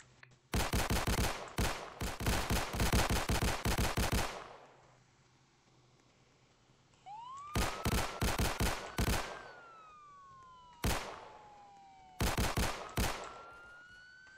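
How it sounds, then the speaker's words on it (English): Gunfire rings out in a police video game, with rapid bursts of automatic shots, then a gap, then more volleys while a police siren wails and rises in the background, and no voices. "I'm still gonna shoot because he was a big danger to everyone"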